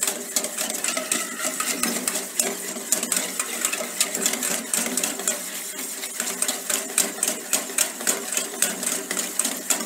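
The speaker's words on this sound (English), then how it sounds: "Then we'll mix the egg yolks, vinegar and mustard." Egg yolks, vinegar and mustard being whisked in a bowl for mayonnaise give a quick, steady series of light metallic clicks and taps, close and continuous, with no talk.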